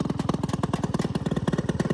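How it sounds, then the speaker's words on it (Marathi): A newly bought tractor's engine runs nearby with a fast, even, throbbing chug, loud and steady throughout, with no talk over it. "हे बघा चालला ट्रॅक्टर"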